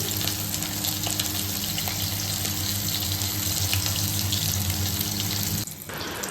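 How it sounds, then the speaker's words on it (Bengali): Hilsa fish fries in hot oil, giving a steady, loud sizzling hiss that runs unbroken for most of the stretch before dropping off sharply near the end, with no talk over it. "মাছটা ভেজে নিচ্ছি"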